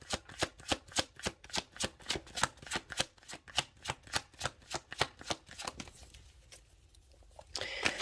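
Tarot cards are shuffled in a fast, even run of crisp slaps for about six seconds, then go quiet before a short rustle of handling at the end, with no voices.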